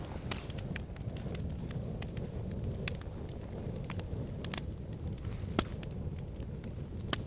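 Wood fire burning outdoors in a quiet Australian setting, a soft continuous rushing of flames with scattered faint crackles and pops, no talk.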